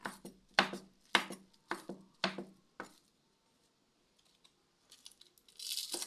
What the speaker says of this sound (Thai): หั่นเห็ดไข่สักก่อนนะคะ จะเอาไปตำนะคะ